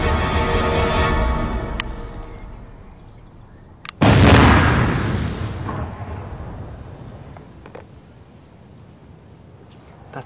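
Stamped explosive blocks detonate near a steel plate in a sharp, loud blast that cracks suddenly and rolls off into a long, fading rumble, following the tail of an earlier boom.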